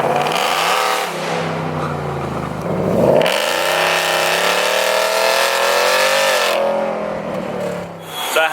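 A Ford Raptor on 37-inch tires revs hard on slippery, rain-wet pavement, its engine roaring and rising in pitch with squealing tires. It eases briefly, then climbs into a long, loud, sustained rev before dropping off.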